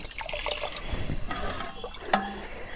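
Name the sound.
pouring water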